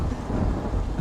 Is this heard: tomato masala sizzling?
no